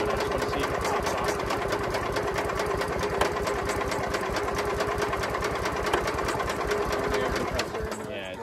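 A Briggs & Stratton small engine runs steadily at close range with a fast, even mechanical chatter, loud and constant before easing slightly at the end.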